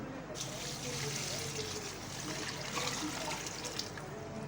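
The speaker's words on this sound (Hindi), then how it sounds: "यहाँ पे हमने इसके अंदर 3 लीटर जो है ना पानी डालना है।" About three litres of water pour steadily into a pot for sherbet with basil seeds soaking overnight, a continuous close splashing stream without talk.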